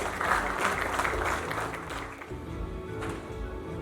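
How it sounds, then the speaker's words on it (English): Applause from an audience at a mountain clean-up campaign event as team leaders are called on stage, a steady moderate wash of clapping that thins slightly toward the end, with some crowd murmur mixed in. "a big round of applause for all our team leaders who are joining us on stage"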